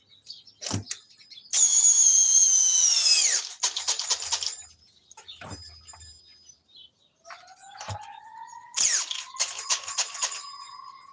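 A weak power drill on its lowest speed setting whirs loudly in a sustained burst, then stops; clicks and short mechanical whines follow, with another high motor whine rising later.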